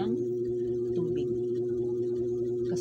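An electric water pump motor runs steadily during rain, giving off an even, continuous hum with a strong tonal drone and faint background noise throughout.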